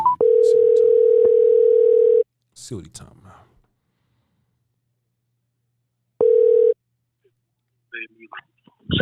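A telephone dial tone sounds loudly for about two seconds while a call is being placed, then someone talks briefly, and the same steady tone returns for a short burst later.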